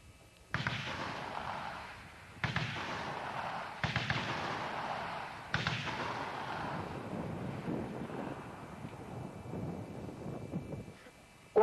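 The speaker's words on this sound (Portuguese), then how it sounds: "Este mesmo tiro da metralhadora .50 seria observado da seguinte forma a 200 metros." Bursts of .50 calibre machine gun fire observed from about 200 metres away, heavy distant reports arriving in several separated volleys with wind buffeting the microphone between them.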